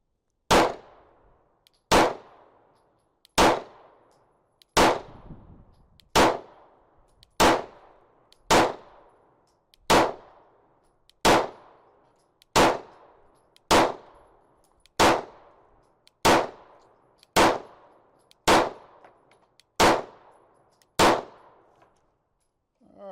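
Sixteen evenly spaced gunshots ring off a steel target at an outdoor range, each sharp crack followed by a metallic clang that decays quickly, loud and close with no talking between shots.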